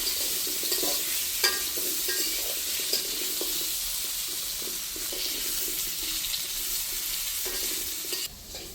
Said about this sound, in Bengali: আলুগুলি একটু লালচা লালচা করে ভেজে নেব।